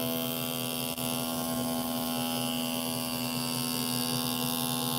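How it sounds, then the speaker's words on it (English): Homemade DC brushless pulse motor with N52 neodymium cube magnets running at steady speed, giving a constant low electrical hum with overtones and a faint whir, quiet and close, with one brief click. "it's a DC brushless motor, and it works with AC as well"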